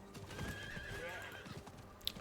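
Horse hooves clip-clop at a gallop with a whinny in the Diablo 4 video game, a steady near hoof rhythm under game ambience with a brief sharp accent near the end.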